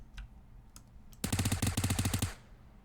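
Rapid automatic gunfire in the battle royale video game Quical, a dense burst of about a dozen loud, evenly spaced shots lasting roughly a second, after a few faint clicks.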